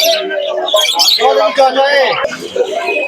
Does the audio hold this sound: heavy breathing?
no